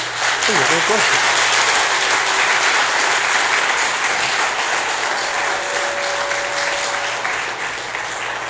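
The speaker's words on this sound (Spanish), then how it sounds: "Vamos a darle un aplauso fuerte al Señor." A church congregation at an evangelical Christian service claps loudly and steadily for the Lord, a dense, sustained wash of applause filling the space, with faint voices beneath it.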